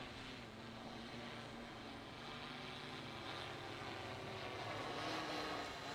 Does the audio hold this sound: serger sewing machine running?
no